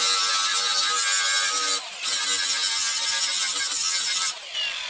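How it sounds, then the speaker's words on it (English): A handheld power tool buffs metal parts during a sand rail buggy build, a steady high-pitched whirring grind close by that dips briefly twice as the tool lifts off the metal. "I'm going to buff these off"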